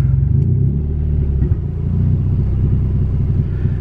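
A turbocharged Honda Civic with a swapped B18C engine drones loud and low during a pull, a steady close rumble that dips briefly midway and then carries on.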